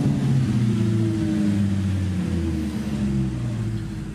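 An Audi RS5 Coupe's engine starts and rumbles steadily with deep, low exhaust tones, revving slightly up and down, loud and close throughout.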